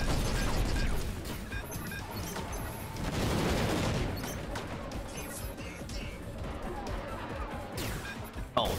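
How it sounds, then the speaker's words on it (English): Missiles fire in the mech combat game Hammer, a dense continuous barrage of blasts and crashing impacts that swells and fades, loud and layered throughout with a faint voice in the mix. "That's a lot of missiles."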